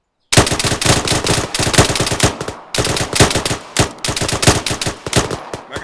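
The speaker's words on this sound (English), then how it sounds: "Section 300 meters, bearing 310. Rapid. Fire." Rapid automatic rifle fire in the military shooter game Arma 3, loud close bursts of rattling shots that stop briefly for a reload and then resume in several more fast volleys.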